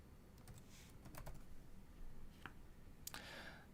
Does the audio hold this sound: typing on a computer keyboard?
yes